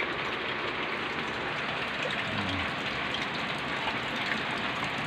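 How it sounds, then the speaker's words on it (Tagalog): Heavy rain from a typhoon still pouring down in the early morning: a steady, dense hiss of rainfall on surfaces, continuous and even, with no voices. "Malakas pa rin yung tulo."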